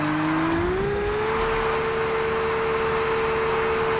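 A car drifts in the video game Car Parking Multiplayer 2 through a wide curve on Red Rock Canyon, with a steady engine drone and a sustained tire squeal that rises in pitch and then holds.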